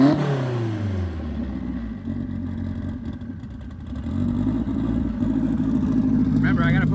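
A Hondaru car engine drops from a high rev into a rough, steady idle and then picks up slightly, close and loud, with people talking over it throughout.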